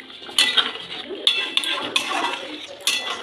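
Boiled potato curry with garam masala stirred in a pot, with repeated metallic scrapes and clinks of a spoon against the pot, close and fairly loud, in uneven strokes.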